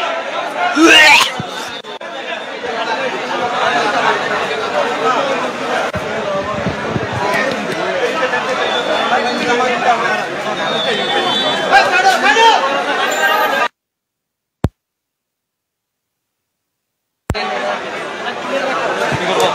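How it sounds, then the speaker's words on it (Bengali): A large crowd of onlookers chatters in a dense continuous babble near a shoe shop fire in a busy market, loud and close, before cutting to a few seconds of near silence. "প্রচুর পরিমাণ মানুষ ভিড় করে আছে"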